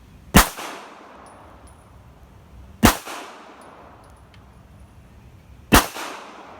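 Three evenly spaced shots from a rusty Bulgarian Makarov surplus pistol at a steel target seven yards away. Each sharp, loud crack is followed by a brief metallic ring.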